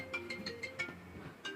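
A phone ringtone plays in a quiet indoor setting, a bright repeating electronic melody of several short tonal notes in steady rhythm, fairly close and clear with no talk over it.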